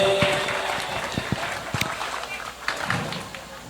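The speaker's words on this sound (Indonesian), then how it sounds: "Tepuk tangan buat beliau para hadirin." Audience applause at an Indonesian mosque gathering honouring Kiai Haji Gus Miftah, moderately loud with scattered claps and crowd noise, mixed with some background voices.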